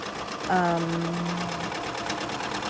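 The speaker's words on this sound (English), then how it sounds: "I always stitch mine upside down because I have the Ricoma EM 1010" A Ricoma EM 1010 embroidery machine stitches gold thread onto a jersey hoodie sweatshirt, running as a steady close mechanical whir while a person talks over it.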